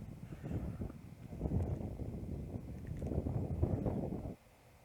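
Wind gusts buffet the microphone across an outdoor disc golf course, rising and falling in rumbling waves for several seconds before cutting off abruptly.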